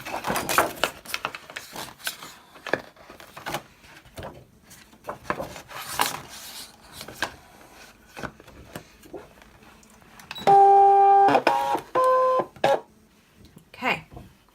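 An electronic cutting machine taking in a sheet of glitter paper: scattered handling clatter and knocks, then a loud steady whirring feed with electronic beeps near the end, close by.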